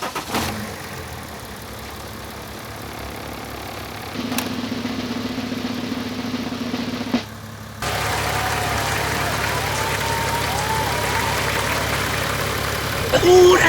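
A BMW X5 diesel engine runs after a coupler repair, a steady mid-pitched mechanical drone with an abrupt shift partway through into a louder, rougher hum, and voices talk briefly over it.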